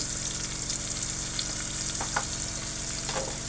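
Masoor lentil and vegetable mix with masala frying in a pan, a steady close crackling sizzle throughout with a few brief stirring scrapes, no talking.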